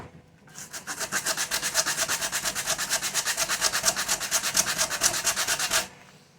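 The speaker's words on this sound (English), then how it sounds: "so I'm going to sand that off really quick." A sanding block rubbed quickly back and forth over a wooden picture frame piece, giving a close, steady run of rasping strokes, roughly five per second for about five seconds, with no talk.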